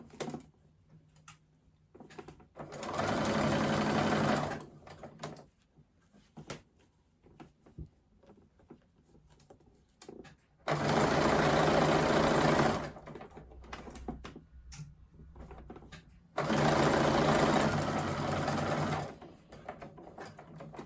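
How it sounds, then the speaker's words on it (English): A sewing machine stitches bias binding for a bound seam in three loud, sustained bursts of rapid whirring, separated by quieter pauses with handling clicks and fabric rustle. "Now I've reverse stitched, I'm going to sew all the way down."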